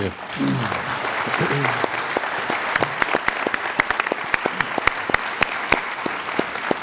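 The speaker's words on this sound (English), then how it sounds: "Please join me in another round of applause for David Ignatius and our IC leadership." A summit plenary audience applauds David Ignatius and intelligence community leadership; a voice speaks at first, then scattered sharp claps ring out, sparse and fairly distinct rather than a dense ovation.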